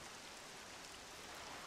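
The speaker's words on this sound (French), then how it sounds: "sauf que là, il pleut" Steady rain falling outside, a soft even broadband hiss of drops on surfaces, faint and continuous with no voices.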